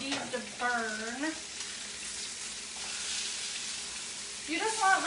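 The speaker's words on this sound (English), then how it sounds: "You just want like a nice hot sear on them where they get a little brown." Pork chops sear in a hot pan with a constant loud sizzle close by, while a voice speaks briefly at the start and again at the end.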